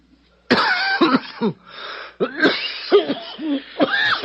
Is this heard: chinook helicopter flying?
no